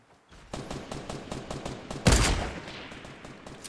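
Rapid gunfire in a Fortnite match, a steady run of sharp repeated shots with a louder, denser burst partway through, close and loud with no talk over it.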